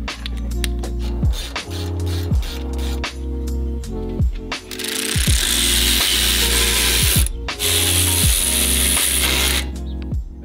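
Hand ratchet tightening a brake caliper onto its caliper bracket during a Mazdaspeed3 brake upgrade, a rapid series of close, loud metallic clicking strokes in repeated runs with short pauses and a brief scraping burst.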